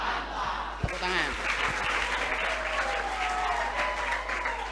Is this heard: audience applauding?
yes